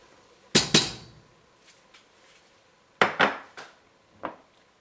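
A utensil knocks and scrapes against a pot while onions and plain tomato sauce are mixed for a sweet ketchup barbecue sauce, several sharp close clacks in two clusters over a quiet background.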